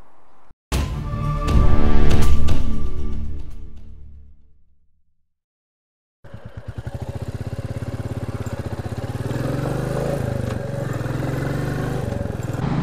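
A Royal Enfield Classic 350 motorcycle rides through the Scottish countryside, its single-cylinder engine revving up loudly and fading away, then, after a short silence, thumping steadily and close at a constant cruising pace.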